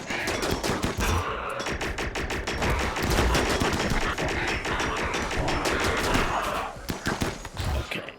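Rapid gunfire in RimWorld, dense and continuous automatic shooting at close range for the whole stretch, with brief lulls near the end.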